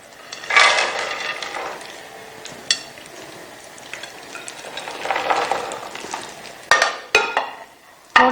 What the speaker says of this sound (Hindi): थोड़ा सा देसी घी निकाल के ना हमने जो है वो ड्राई फ्रूट को फ्राई करना है